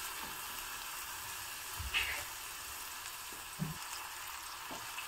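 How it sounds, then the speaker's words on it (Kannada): Food frying in ghee gives a faint, steady hiss of sizzling, broken only by a couple of soft utensil taps. "ಇದು ಸಹ ಚೆನ್ನಾಗಿ ಫ್ರೈ ಆಗಬೇಕು ತುಪ್ಪದಲ್ಲೇ"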